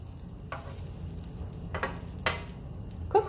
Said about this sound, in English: you warm up your griddle, and then you drop these down, your batter